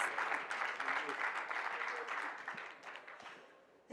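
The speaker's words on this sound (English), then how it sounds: "Round of applause for our panelists." Audience applause greets the panelists at an advocacy panel on Ohio's legal market, a steady dense clapping that fades slightly toward the end.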